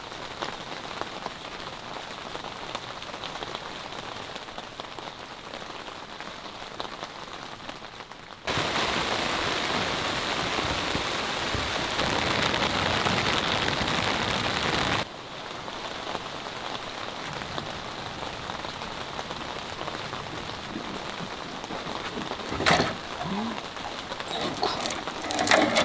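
Rain falling on a summer campsite, a steady patter of drops on a surface, heavier and louder in a burst in the middle before easing back to a gentler continuous fall with a few faint thuds.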